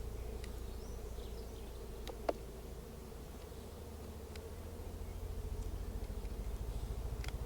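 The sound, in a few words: honey bees buzzing in an open hive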